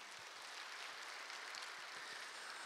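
A church congregation claps together to welcome new members, a dense, even wash of applause heard from a distance and fairly faint, holding steady throughout.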